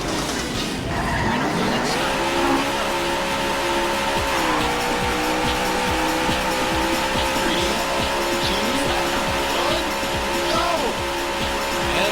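Race car engines roar continuously in an arcade racing game, with tire squeals and skids cutting through the loud, dense mix of engine drone and crowd-like background.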